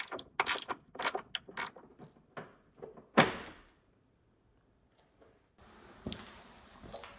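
A 13mm wrench loosens the battery tie-down clamp on a Duramax 2.8L diesel, making close, quick ratcheting clicks in short bursts, then a metallic clunk followed by near silence and faint handling noise.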